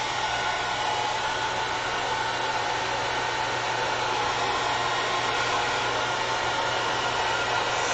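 A hair dryer drying alcohol ink artwork, blowing in a constant loud whooshing roar with a low steady hum, close and unbroken throughout, with no talking.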